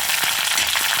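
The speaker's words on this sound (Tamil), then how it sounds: "இப்போ கடுகு பொரிஞ்சிடுச்சுங்க" Mustard seeds tempering in hot oil with curry leaves, cumin and urad dal give a dense, steady sizzle dotted with small popping crackles, close and continuous with no talk.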